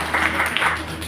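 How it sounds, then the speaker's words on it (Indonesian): A church congregation claps briefly during a sermon, a short burst of moderately loud applause mixed with a few voices. "Tepuk tangan dulu buat Tuhan"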